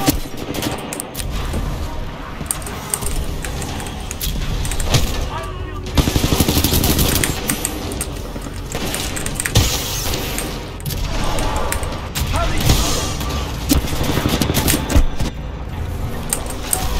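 Titanfall 2 gunfire in dense, continuous bursts of rapid shots and booms, loud and close, filling the whole stretch with mechanical clatter and a voice speaking over the action.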